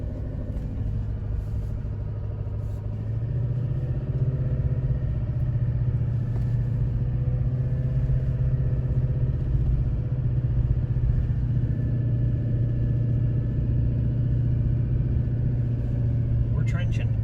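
A vehicle engine rumbles steadily and close at moderate volume while pulling through loose ground near Lake Powell, a low drone that thickens slightly as it works harder to keep from getting stuck, with no clear talk over it.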